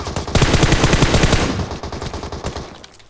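Rapid bursts of M249 automatic gunfire in PUBG Mobile rattle loudly and continuously, then thin out into scattered shots, with a punchy, game-like sound.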